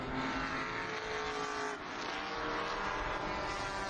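Race cars run side by side at Utah Motorsports Campus during NASA Championship qualifying races, a dense, loud, continuous engine roar with overlapping revving tones and no talk.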